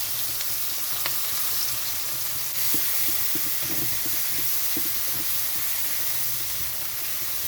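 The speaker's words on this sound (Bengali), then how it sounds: "এখানে দিয়ে দিচ্ছি কুচানো পেঁয়াজ ভাজা" Chopped onions fry in hot oil with garlic and nigella seeds in a pan for a pointed gourd and fish curry, a steady close sizzle broken by a few light stirring taps.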